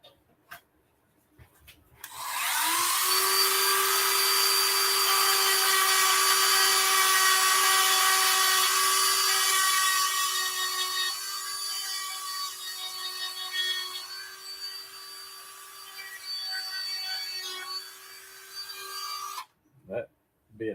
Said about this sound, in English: So I need to take the Dremel and clean that out.